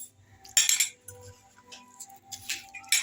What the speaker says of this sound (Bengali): এবার এটা কাঁচা মাছ, এর মধ্যে একটু হলুদ দিলাম, এর মধ্যে একটু নুন দিলাম, এর মধ্যে একটু তেল দিলাম। এবার এটাকেও মাখাবো